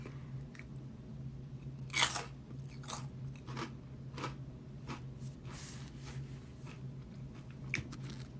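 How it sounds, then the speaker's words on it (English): Sea salt pork rinds are crunched while eating, a series of sharp, close bites and chewing crackles spaced irregularly over quiet background, one louder crunch standing out early. "Wow, the crunch on these is amazing."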